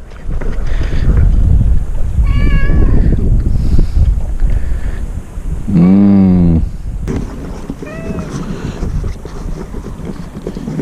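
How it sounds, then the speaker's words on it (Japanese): Stray cat meowing near a fishing and barbecue spot on the Seto Inland Sea coast, a few short mews and one longer, louder wavering meow close by, over wind buffeting the microphone. "猫ちゃんをどっかにやらにゃいけん"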